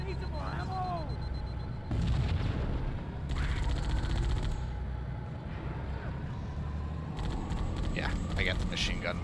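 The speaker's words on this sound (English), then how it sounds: "I get the machine gun with it" Machine gun fire in Halo: Combat Evolved sounds in several rattling bursts of varying length over continuous game ambience.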